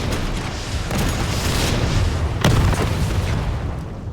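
Rocket launcher blasts go off in Resident Evil 3, heard as loud, heavy booms over a dense, roaring game soundscape, with one sharp blast standing out near the middle of the clip.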